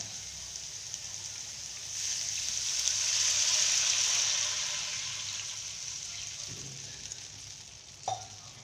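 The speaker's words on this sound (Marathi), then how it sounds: "आपण आता याच्यामध्ये एक गिलास पाणी सोडू" A glass of water goes into a hot pan of frying green moong, and the quiet sizzle swells into a broad hissing rush that fades back down, ending in a couple of soft clinks.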